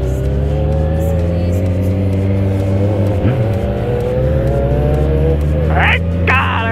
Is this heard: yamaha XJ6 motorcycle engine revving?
yes